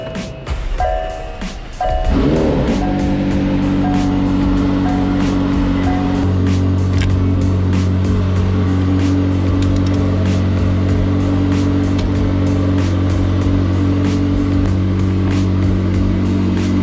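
A McLaren 720 supercar's engine starts and then runs steadily at close range as it is driven onto a car trailer, a sustained, even engine tone with some clicking and mechanical clatter on top.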